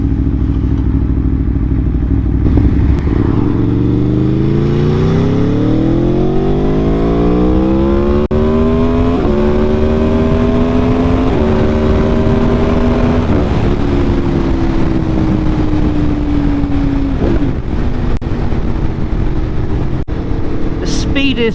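Motorcycle engine revving and accelerating through several gear changes on a wet road, the tone rising in steps with loud, close wind noise throughout.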